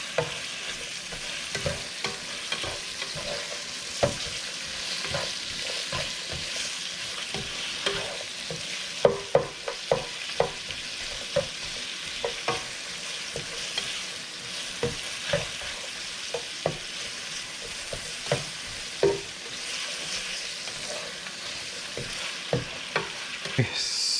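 Ginger and onions stirred and frying in a pan for Filipino squid adobo: a steady close sizzle broken by scraping, clattering stirs at irregular intervals, with no talking.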